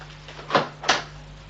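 A door swinging open inside a home as guests arrive, heard as two short, close creaking or scraping strokes about a third of a second apart in an otherwise quiet room.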